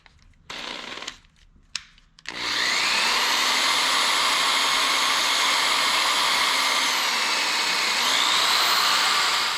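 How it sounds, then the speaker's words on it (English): A few short, sharp bursts of a power tool give way to a loud, steady, high-pitched whir as a compressed brass sleeve is honed out, running continuously with slight shifts in pitch. "So I'm gonna hone it out a little bit."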